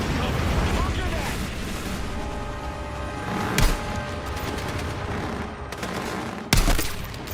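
Gunfire in a military shooter video game, dense sustained bursts of automatic fire with a couple of sharper loud shots, set against a constant roaring battle bed.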